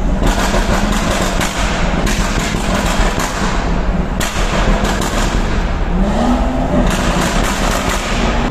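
A BMW at a car meet in a garage revs hard, its exhaust firing loud, sharp pops and crackles in irregular bursts over a continuous engine roar, close and echoing.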